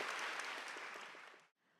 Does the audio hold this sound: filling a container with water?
no